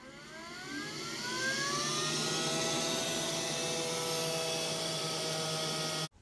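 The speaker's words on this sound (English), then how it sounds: "I'm lucky I have a robot that can vacuum the floor for me." A robot vacuum cleaner runs on the floor with a close, steady whirring motor whine that rises in pitch as it spins up, holding a constant tone before cutting off abruptly at the end.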